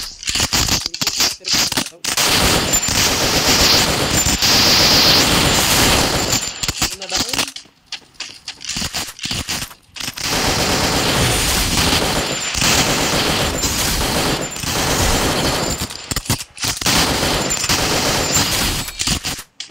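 Rapid automatic gunfire from a Free Fire mobile battle royale match, loud bursts repeating through most of the stretch with a short lull in the middle, while someone talks excitedly over the shooting.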